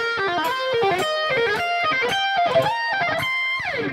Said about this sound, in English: try playing these licks by just picking the first note and then using hammer-ons and pull-offs to play the rest